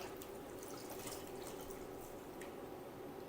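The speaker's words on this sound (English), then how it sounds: "I would say about a handful of coriander, and just rinse it there." Running tap water pours steadily over a handful of fresh coriander being rinsed at a kitchen sink, a continuous, fairly quiet splashing hiss with no talk.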